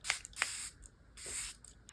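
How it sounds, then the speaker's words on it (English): Charlotte Tilbury Flawless Setting Spray is misted in a few short, close hissing bursts, with quiet pauses between spurts and no talking. "the very last step that I use is the Charlotte Tilbury Flawless Setting Spray"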